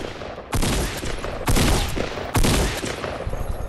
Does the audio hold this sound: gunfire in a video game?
yes